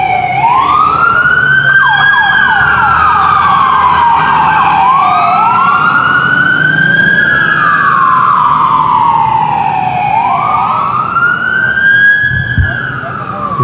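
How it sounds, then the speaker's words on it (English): Wailing ambulance siren traveling with a police escort through Los Angeles at night, loud and near, rising and falling in long sweeping cycles with a second siren layered beneath and road noise underneath. "So that was the ambulance with the officer and then police escort."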